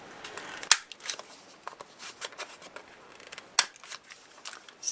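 A paper punch snipping the corners of a handmade Christmas card gift tag, with two sharp close clicks amid soft rustling of paper and light handling noises.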